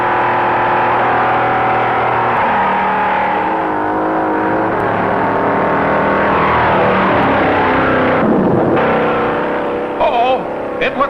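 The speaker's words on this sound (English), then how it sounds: "Goldsmith is fast, but Owens is narrowing the gap" Engines of 1957 stock cars roar steadily through a beach race at Daytona, a loud continuous drone with shifting pitch as cars pass, under a commentator's voice throughout.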